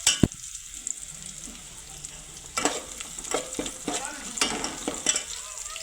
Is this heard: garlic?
yes